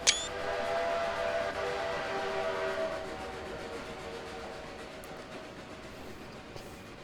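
A train whistle sounds loudly at the start, then fades into a steady rumbling rail run in Trainz 2022 on the Eagle River route.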